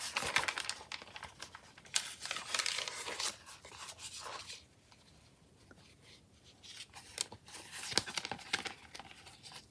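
Papers in a handmade junk journal, including a flap of mixed patterned sheets, are handled, producing close crinkling, rustling and page-flipping sounds in irregular bursts with a quieter stretch midway and no talking.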